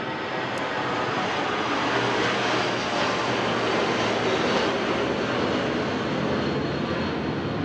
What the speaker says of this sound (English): We might have to wait till this plane goes by